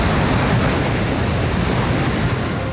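Big ocean waves surge and break in a continuous loud roar of churning surf and spray, close and unbroken, with no voices.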